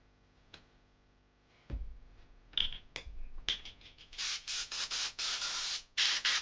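Repeated hissing bursts from an aerosol spray can used while working on an iPad 4 Cellular, coming in quick successive puffs of varying length at close range, preceded by a few light clicks and handling knocks, with no talking.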